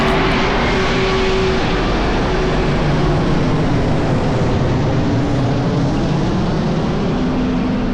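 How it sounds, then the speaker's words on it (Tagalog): Airplane flying low overhead, a loud continuous engine roar and rumble, very close and steady, with no other sounds. "Ito naman. Aeroplano."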